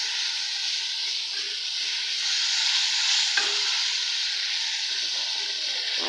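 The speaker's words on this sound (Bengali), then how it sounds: "তো এই যে পেঁয়াজগুলো কষাই নিতেছি।" Onions sizzling and frying in a pan over a gas flame for a breakfast egg dish, a steady bright hiss with occasional stirring scrapes, close and continuous with no talk.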